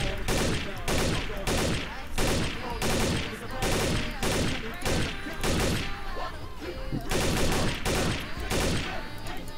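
Sustained rapid gunfire from an MK gun in Garry's Mod, a dense, loud stream of repeated shots with short pauses between bursts, close and continuous across the whole stretch.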